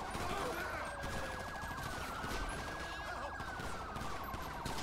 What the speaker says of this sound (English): This guy does appear to still be shooting.